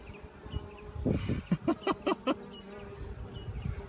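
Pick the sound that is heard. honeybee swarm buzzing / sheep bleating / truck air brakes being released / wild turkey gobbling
honeybee swarm buzzing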